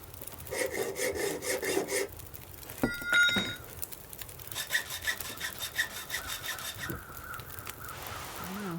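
A hacksaw saws in The Long Dark, a steady back-and-forth rasping of strokes near and loud, with a short pause and a couple of sharp clanks midway before the sawing resumes.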